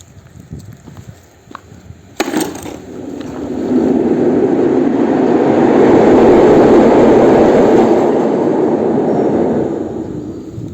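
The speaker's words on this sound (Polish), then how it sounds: "I jedzie pociąg." A train rumbles past with a growing, steady roar that swells and lingers, loud and nearby, after a few sharp clicks and knocks.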